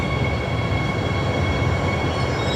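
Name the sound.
airport train brakes screeching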